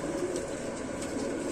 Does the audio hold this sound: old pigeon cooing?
yes